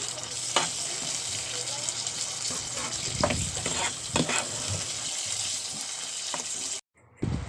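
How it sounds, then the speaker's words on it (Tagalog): Tomatoes fry in a pan and are stirred, a low, continuous sizzle broken by a handful of scraping, clacking stirring strokes, close by, with a brief dropout near the end. "Halo-haluin lang po natin siya at saka hintayin natin lumambot yung kamatis."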